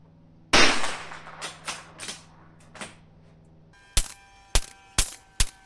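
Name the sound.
rifle gunshot firing Aguila standard ammunition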